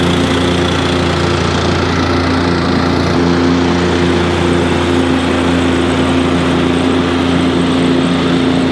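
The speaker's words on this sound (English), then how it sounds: "takes me about 28 to 32 minutes roughly to mow it all with the Ybravo." A Ybravo push lawn mower cutting a large residential lawn, its small engine holding a steady loud drone with a constant pitch and slight rasp, close by and alone without any talk.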